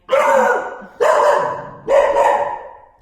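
A household dog barks three times at home, each bark loud, close and drawn out, spaced about a second apart with no talking around them.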